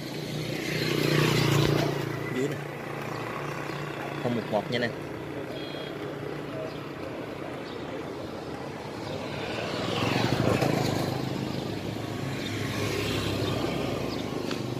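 A Honda Wave motorbike engine runs at a steady idle, a low continuous putter close by that swells briefly partway through, while someone talks over it.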